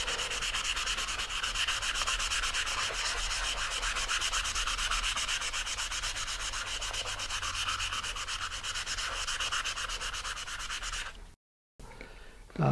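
Steady, continuous scratchy sanding, abrasive paper rubbed back and forth against sandable primer on a model rocket body tube, close and loud, stopping briefly near the end.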